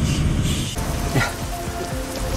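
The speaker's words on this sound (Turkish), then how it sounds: "Yağmur başladı." Steady rain hisses and patters in Euro Truck Simulator 2 on a Peru map, a broad continuous wash that swells after the first moment, with low rumbling truck engine noise underneath and occasional thuds.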